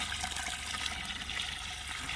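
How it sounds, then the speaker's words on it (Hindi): Water gushes steadily into a large pot of cooking goat meat curry, about 1.5 litres poured in a continuous splashing stream, close and fairly loud from start to finish. "अब बस पानी डालेंगे इसमें"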